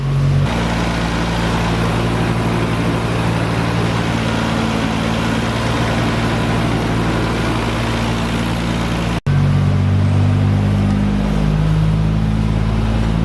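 A Nissan R32 GT-R engine cranks briefly and catches, then settles into a steady, loud idle with a low droning hum, a short cut near the end before it resumes running.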